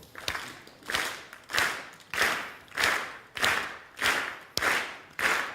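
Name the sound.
audience clapping hands in rhythm at 96 beats per minute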